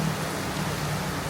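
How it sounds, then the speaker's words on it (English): Torrential rain pours down outdoors in Batam, a dense, unbroken hiss of heavy downpour drumming on surfaces close by, loud and steady throughout with no voices. "it's torrential rain"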